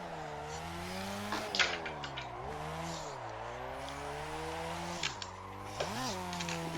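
A Mazda RX7 in a racing video game drones with a buzzy, high-revving rotary engine tone, climbing and dropping between gear shifts, with occasional tire squeals.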